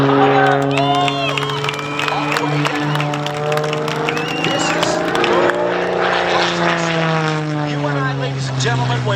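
An aerobatic propeller airplane flies at an air show in Columbus, its loud engine droning steadily with shifting pitch as it passes and rolls, while an announcer talks over it and a crowd cheers.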